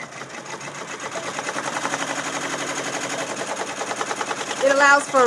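A Brother embroidery machine stitching on a hat frame, set to roughly 600 to 700 stitches per minute, makes a loud, rapid, even mechanical chatter that swells near the end.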